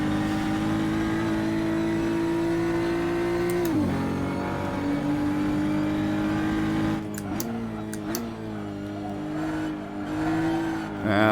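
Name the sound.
race car engine, driver feathering the throttle at Barbagallo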